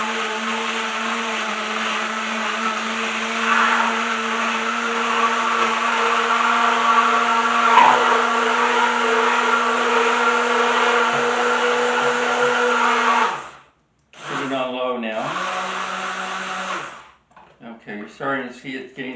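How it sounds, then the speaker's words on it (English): A blender whirs steadily for about thirteen seconds while blending a blueberry smoothie, then stops and briefly restarts before a voice speaks near the end. "so this is going to make a little noise, so I'll just blend it up for about a minute"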